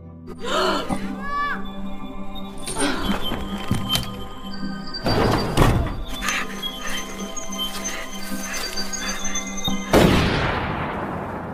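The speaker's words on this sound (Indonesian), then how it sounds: "Dan kemudian ia pun ditembak." A gunshot in a psychopath thriller film scene rings out as sharp broadband bursts, with loud cracks near the start, middle and end, set among film music and dialogue.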